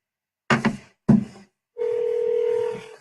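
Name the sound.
telephone ringing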